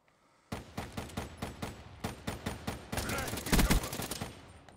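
Gunfire in Black Ops 3 on the Nuclear map, a rapid run of evenly spaced loud shots from close by that merges into a denser barrage near the end.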